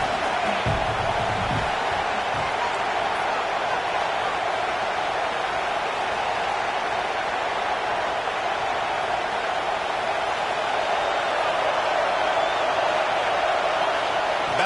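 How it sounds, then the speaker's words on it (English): A home stadium crowd at a college football game roars steadily as the defense tries to get off the field on third down, a dense, sustained wall of cheering that holds at the same level without a break. "Here comes this home crowd as the defense tries to get off the field on third down"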